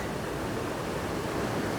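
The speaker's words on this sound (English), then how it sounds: "they have a waterfall right here" A waterfall in Ithaca, New York, by a footbridge, makes a constant, even rush of falling water, a dense, unbroken hiss and roar with no voices.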